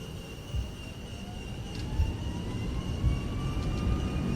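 Jet engines of a ToLiss A340-600 airliner roar steadily during takeoff in a flight simulator, a broad continuous rumble with thin rising whine tones beneath, no talking.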